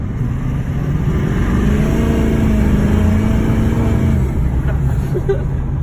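A 600hp Duramax diesel truck engine, stuck in place, revs loud and close in a sustained roar that climbs in pitch, then drops off near the end.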